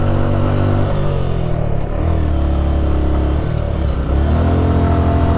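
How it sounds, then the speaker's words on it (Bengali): A motorbike engine labours at high, steady revs in a single low gear while climbing a steep hill road on a ride through Bandarban, loud and close throughout with slight dips in pitch. "তো এইটাই সেই লাদাখ ভিউ, যেখানে আমার গাড়ি এক গিয়ার ছাড়া উঠতেই পারতেছে না।"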